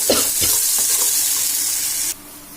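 Oil sizzling in a pan as pasta is stirred, a steady frying hiss with a few scraping stir sounds early on, close and fairly loud, cutting off abruptly near the end.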